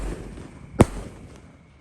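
One sharp pop from a roman candle firework shell launched out of a bazooka-style tube during a night of Takbiran celebrations, a single loud thump standing alone.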